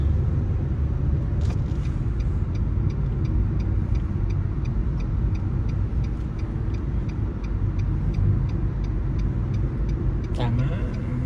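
A car manoeuvring into a parking space during a driving test, a steady low engine rumble running throughout with faint periodic ticking like an indicator, close and continuous.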